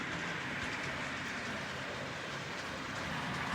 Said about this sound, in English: a DC locomotive will run almost flawlessly with a DCC locomotive on a DC system.